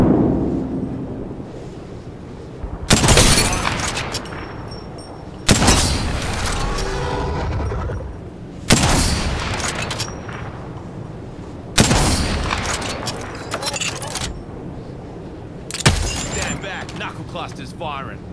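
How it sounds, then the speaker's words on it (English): Knuckle cluster grenade explosions in Apex Legends, five loud booming blasts spaced a few seconds apart, each with a crackling burst that decays into a rumble, over a steady game ambience. "Stand back, knuckle clusters firing."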